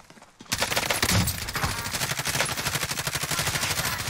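Rapid automatic gunfire from the Call of Duty Warzone video game starts abruptly and continues as a dense, evenly spaced stream of shots to the end.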